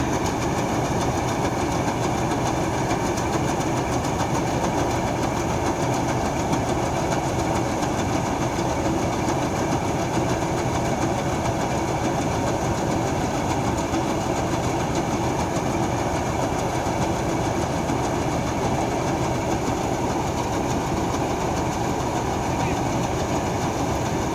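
A heavily loaded vehicle hauling rice along a rough farm track, its engine a steady, dense, continuous drone with a rattling texture that stays loud and unchanging throughout.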